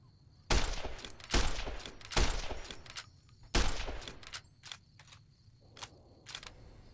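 Video game gunfire, a handful of loud sharp gunshot bursts in quick succession followed by softer shots and clicks, close and dry with no talking.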